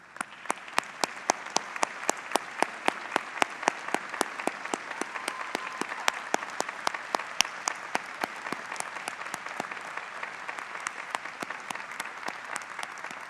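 A ceremony audience applauds steadily and evenly for over ten seconds, many hands clapping at moderate distance with no break.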